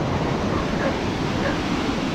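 Ocean surf washes steadily against a rocky shore where people fish, a dense continuous roar mixed with wind, with no distinct breaks.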